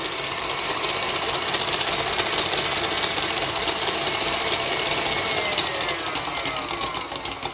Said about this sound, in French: je vais arrêter le batteur et vérifier la consistance de ma meringue